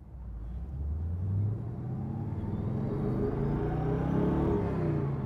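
A 1965 Chevrolet Corvette restomod rumbles low and close as it pulls away, its engine note rising gradually with steady acceleration and no voices.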